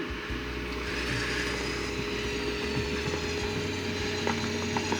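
A winch on an off-road recovery test pull of a Duramax-swapped H2 Hummer runs with a steady mechanical whir and ratcheting clicks, moderately close, over a low engine rumble, with a few sharper clanks near the end.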